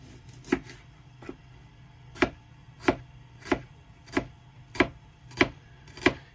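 A knife chops onions or shallots fairly finely on a board in a narrowboat kitchen, with steady evenly spaced sharp thuds, about eight strikes, close and clear against a low steady background hum.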